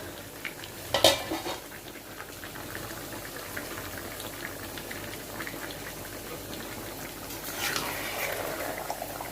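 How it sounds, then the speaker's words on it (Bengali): Chicken pieces cooking with whole garlic in a pot, stirred with a utensil that scrapes and knocks against the pot sides a few times over a steady low simmering hiss, close by, with no voices. "এখন একটু নাড়াচাড়া দিয়ে দিচ্ছি, কারণ হচ্ছে অনেক মাংস তো নিচে লেগে যেতে পারে"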